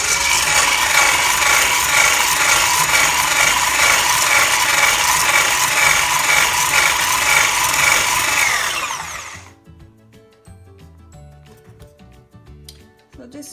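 An electric mixer beats gluten-free, dairy-free, sugar-free plum cake batter with a steady, loud whirring and rattling for about nine seconds. Then it stops, leaving faint clinks and handling noise.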